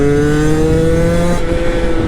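Beta Track 70 motorbike with a tuned AM6 engine, loud and close, a buzzing two-stroke drone that climbs in pitch as the throttle opens, with no talk over it.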